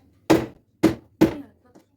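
A hammer strikes three times with sharp, loud thuds in a slow, uneven rhythm to break something open in a home kitchen, close by, with no talk over the blows.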